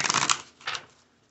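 Tarot cards being shuffled, two quick papery riffling bursts close to the microphone, the first longer and the second shorter, with no voices.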